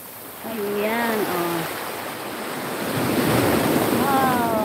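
Ocean waves break and wash steadily onto a white-sand beach, heard close and loud under gusty wind noise on the microphone, with a voice calling out briefly in between.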